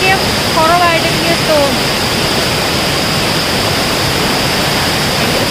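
Blappila waterfall in Konni, a loud continuous rush of falling water heard up close, with a few bird calls faintly rising over the roar at the start.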